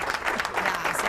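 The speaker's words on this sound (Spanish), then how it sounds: "Yo sé que están todos aplaudiendo del otro lado y llegan los aplausos hasta el estudio." Applause from listeners reaching a radio studio during a celebration of the 150th programme, a brief burst of clapping with a voice speaking through it.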